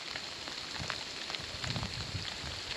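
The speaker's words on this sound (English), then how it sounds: "It started hailing." Hail falls steadily outdoors in Spain, a dense, even patter of countless small hits with occasional louder taps, continuous throughout with no voices.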